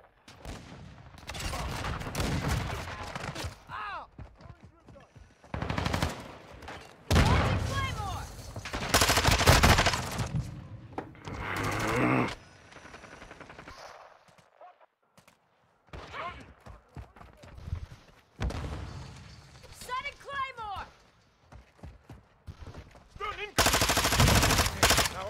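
Rapid gunfire bursts in Modern Warfare 2 multiplayer, loud automatic volleys and single shots recurring in clusters across the clip with short quiet gaps between them.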